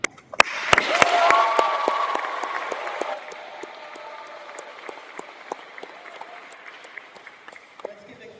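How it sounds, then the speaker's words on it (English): Audience at a showcase session applauding, a burst of clapping with some cheering that swells early and then settles into lighter scattered claps, with voices and a few sharp knocks heard as it trails off. "Let's give a huge round of applause for our amazing CAA media team"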